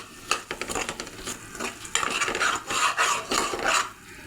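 A spoon stirs chicken in a pot while cooking haleem, a series of close scraping strokes against the metal with a soft sizzle underneath, irregular in rhythm and with no voices.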